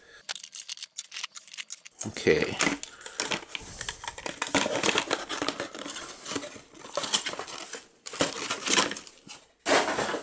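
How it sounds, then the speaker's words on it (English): Scissors snip through cardboard toy packaging pieces in a close series of crisp, irregular cuts and rustles, following a short spoken word at the start. "Some of these need to be cut out with scissors,"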